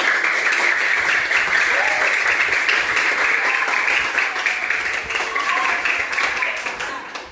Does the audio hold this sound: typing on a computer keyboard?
no